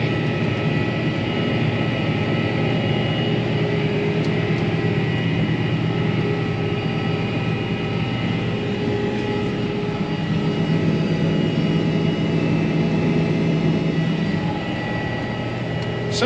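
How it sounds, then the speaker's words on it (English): Low-flying aircraft near Bishop International Airport fill the air over a field being planted with a steady, loud, continuous engine drone that hardly varies in level from start to end, with no voices. "I'm planting right next to Bishop International Airport, and so now I've got these things flying over me all day."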